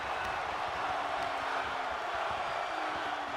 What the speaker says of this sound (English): This Raw crowd is chanting one more time.